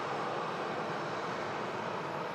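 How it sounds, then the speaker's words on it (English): Steady broadband roar of a jet airliner engine at Manchester Airport, continuous and even with no breaks, heard from a moderate distance without talk. "the Etihad out to Abu Dhabi is lined up on the south runway, ready to go."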